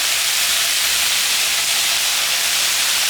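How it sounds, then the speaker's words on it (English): Vegetables including carrots and Chinese cucumber stir-frying in a wok, giving a loud, dense, continuous hiss of sizzling with no talk and little variation. "Just a quick stir fry."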